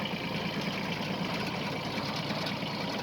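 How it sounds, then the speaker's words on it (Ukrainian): A Kubota GB130 mini tractor engine with a 110 cm rotary tiller runs steadily with a low, chugging idle-like drone, close and continuous throughout, no voices. "от трактор їде"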